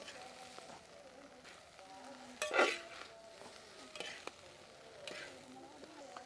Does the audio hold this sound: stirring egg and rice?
yes